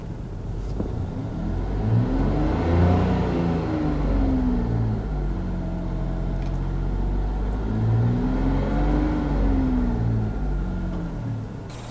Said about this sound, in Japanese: ちょっと軽くエンジン回転数上げてみますね